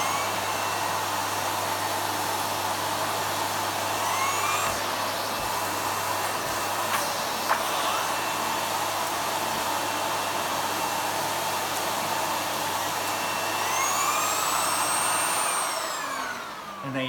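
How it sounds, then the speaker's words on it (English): A Hoover vacuum cleaner fitted with a turbo brush runs steadily and loudly at close range, holding a constant drone with a few faint whistling sweeps before it winds down at the end. "Got my turbo brush here. Just going to turn on the hoover"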